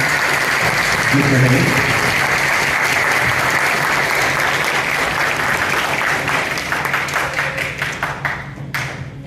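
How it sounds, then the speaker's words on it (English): Concert audience at a school spring band and orchestra performance applauds the student band, steady full clapping throughout that begins to thin toward the end, with a voice speaking briefly over it. "So if we could have another round of applause for them."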